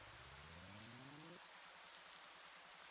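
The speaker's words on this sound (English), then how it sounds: "The tourists will sure love all of this rain." Steady rain falling in the cozy video game Spirittea, a soft, even hiss that carries throughout, with a low tonal sweep fading out in the first half.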